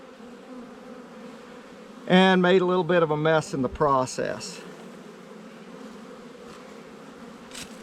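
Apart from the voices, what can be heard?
honey bees swarming around a hive box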